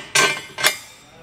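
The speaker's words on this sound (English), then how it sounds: "Take these large bolts that come in our kit, slide them through," Two sharp metallic clanks about half a second apart as large hitch bolts from an underbed gooseneck trailer hitch kit slide through a pickup's frame, close and bright with short ringing decay.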